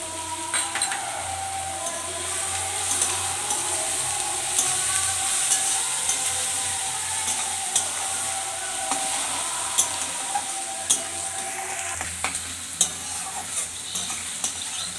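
Sliced onions with a little turmeric fry in a pan for a potol posto dish, a continuous close sizzle broken by repeated scraping strokes of a spatula stirring against the pan.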